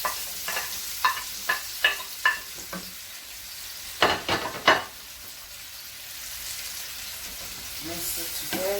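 Carrots and green pepper sizzle softly in a pan while a utensil stirs them in a run of quick scraping strokes, then a couple more, before a quieter steady fry.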